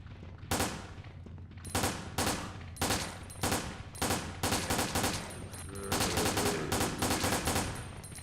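Resident Evil Dead Aim handgun fire: about a dozen loud, sharp shots in an uneven rhythm, some in quick pairs, over a faint low background hum.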